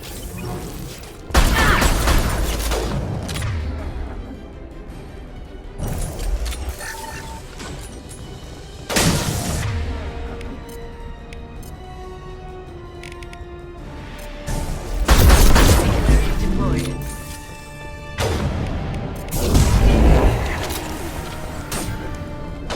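Explosions and gunfire rip through a firefight in Mass Effect 2, the Lair of the Shadow Broker mission. Several heavy booms land at irregular intervals over a continuous mechanical rumble, with a grenade blast among them.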